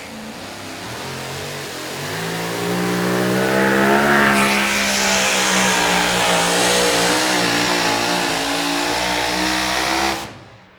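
Two-wheel drive truck Little Red revs hard on an exhibition run at a spring truck jam, a loud sustained engine roar climbing in pitch and holding high for several seconds before cutting off abruptly.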